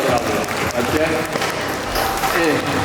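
Audience applause at a Ronin karate club demonstration held during a charity fundraising finale, a steady crowd clapping with a few scattered thuds, a voice talking over it throughout.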